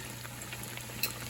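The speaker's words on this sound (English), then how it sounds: "Let that fry for about a minute." Fried Neapolitan montanara pizza dough cooks in hot oil with a faint, steady sizzle and bubbling that holds evenly throughout, no voices.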